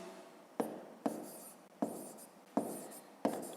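A pen writing on paper up close, about five short bursts of scratchy strokes, each starting with a sharp tap and trailing off, with no talk.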